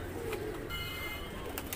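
Soft, low coos from old-breed Deobandi pigeons murmur close by in a pigeon loft, a brief throaty call under quiet background noise.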